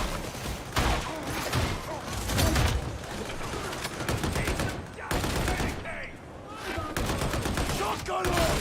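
Shotgun blasts and dense weapon fire in the video game Darktide, loud and continuous with repeated sharp bursts, mixed with other combat noise and a voice talking over it.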